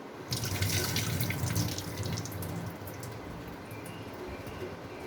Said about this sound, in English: Now I'm going to wash the tur dal. Wash it well.